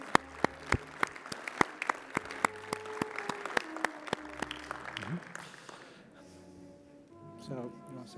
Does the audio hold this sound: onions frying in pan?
no